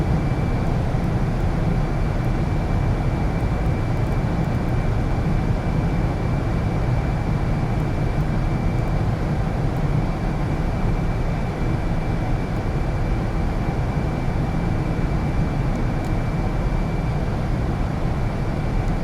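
Steady, loud jet engine roar heard from inside the cabin of a Lockheed TriStar airliner during a night flight, running as one continuous drone with a faint high whine and no audible talk.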